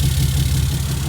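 A 2010 Dodge Ram 2500 SLT with a Cummins diesel idles at the exhaust of a lifted flatbed truck, a steady, loud, low-pitched rumble with an even pulsing beat and no voices.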